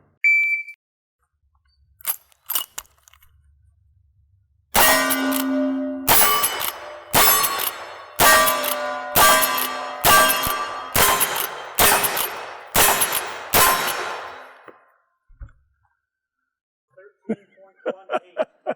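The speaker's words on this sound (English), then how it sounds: "Here we go with the rifle." Rifle shots ringing off steel targets at a cowboy action shooting event, about eight sharp metallic clangs spaced roughly a second apart, each with a bright ringing decay, preceded by a few quieter clicks and followed by faint sounds.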